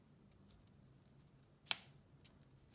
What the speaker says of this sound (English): So it should just give you a click